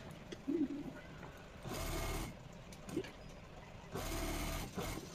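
A sewing machine stitches fabric for the belt of a Patiala pant in two short bursts of rapid, even whirring, with quiet handling noises and brief soft sounds between runs, close but fairly faint.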